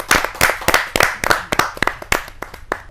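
Audience at a Hindi poetry gathering clapping to welcome a poet, a small group's distinct claps in a quick irregular rhythm, close and fairly loud.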